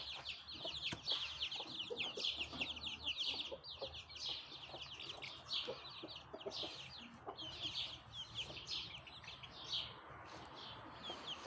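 Backyard hens cluck and chirp continuously over the whole stretch, several birds close by making busy overlapping calls of varying loudness, with no talk heard.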